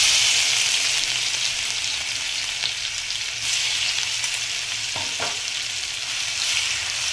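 Green chili paste sizzles and fries in hot oil for sabudana khichdi, a steady loud crackle throughout with a couple of brief stirring scrapes near the end.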